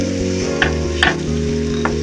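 Patishapta pitha made with moong dal frying in ghee gives a steady close sizzle with a few sharp clinks, set over a continuous low tonal background.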